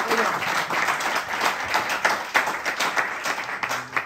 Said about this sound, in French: vous applaudissez pour l'équipe des coulisses